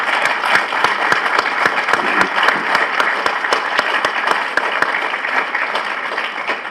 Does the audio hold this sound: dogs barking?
no